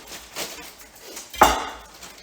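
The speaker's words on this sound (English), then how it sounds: "Now I'm going in with my kale." Kale leaves dropped into a large, wide pan give a brief clattering rustle with a sharp sizzle-like burst partway through, set against quiet kitchen background noise.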